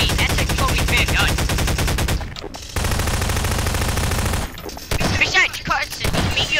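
LG gun firing in a multiplayer video game, rapid automatic bursts that run almost continuously, loud and close, with a short break and a later flurry of shots.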